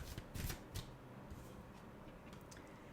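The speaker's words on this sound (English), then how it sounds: "Next card out, Circe, the Three of Fire" A tarot card is drawn from the deck during a soft-spoken reading, a faint close papery shuffle and rustle with a couple of light flicks near the start, then a quiet continuous hiss of handling.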